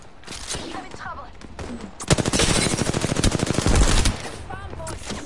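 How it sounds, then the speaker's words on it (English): Automatic weapon fire in the video game Apex Legends: scattered shots, then a loud sustained rapid burst of about two seconds, with brief game voice sounds around it. "Bomb boys are shooting at me."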